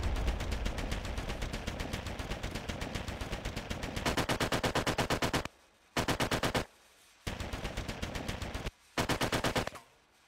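Gunfire in a WWII Online video game memorial: loud, rapid automatic bursts rattle on continuously, then break into several shorter volleys separated by brief silences.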